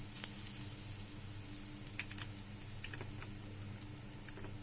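Fish fries with ginger in a pan, a faint, steady crackling sizzle with scattered small pops, quiet and even throughout with no talking.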